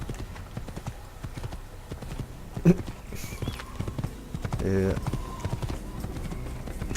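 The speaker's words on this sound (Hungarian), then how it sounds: "Tényleg vicces, hogy úgy ugrik a ló, mint egy béka." Horse hooves clip-clop rapidly in a galloping rhythm in Assassin's Creed, with a louder thump partway through, while someone talks over the hoofbeats.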